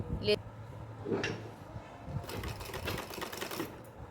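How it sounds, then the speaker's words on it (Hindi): An electric sewing machine stitches lace onto a small doll dress, with short bursts of mechanical whirring and rattling that stop and start, the longest run near the end, all up close. "तो चलिए सिलाई लगा लेते हैं।"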